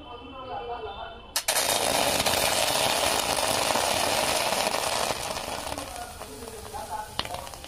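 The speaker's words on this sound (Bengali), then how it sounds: "সুজিটা পুরো হালকা করে ভেজে নিয়েছি" Semolina roasting in a pan on a low gas flame for modak, with a sudden burst into loud, dense sizzling that continues steadily, broken by a brief scrape near the end.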